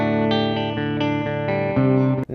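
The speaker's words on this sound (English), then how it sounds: "We're still just hearing the built-in reverb." Electric guitar chords played through a Fender Bassman Tonemaster amp with only its built-in reverb, ringing and sustained, with a few strummed changes and an abrupt stop at the end; no voices.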